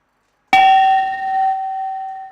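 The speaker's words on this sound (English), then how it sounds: "It's a bell, okay?" A single bell struck once, with a sharp metallic clang that leaves a bright, steady ringing tone sustaining for about two seconds, heard alone and close.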